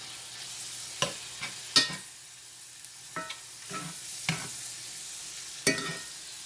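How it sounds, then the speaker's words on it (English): Onions fry in a pan with a soft steady sizzle, broken by several sharp scrapes and clacks of stirring at uneven intervals, close and fairly quiet. "Now we go ahead and put our onions in now."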